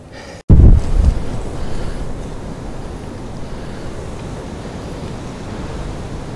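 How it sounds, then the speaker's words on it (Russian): Strong steady low rumbling wind buffeting the microphone of a camera on a tripod, starting with a brief loud gust and continuing as constant broadband roar with no voices. "Сильный ветер, я думаю,"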